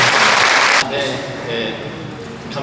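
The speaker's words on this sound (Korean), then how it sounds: "박수로" Brief burst of audience applause at a Bucheon interfaith peace and unification prayer meeting, loud and close, then cut off as a speaker starts talking.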